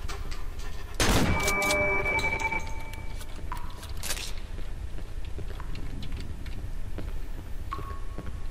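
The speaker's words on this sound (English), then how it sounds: "You didn't think I was brave enough to use a shotgun blindly." A shotgun blast fired blindly in the dark within the Cry of Fear horror game, one loud close boom with a metallic clink ringing after, followed by scattered faint clicks and a hissing ambient drone.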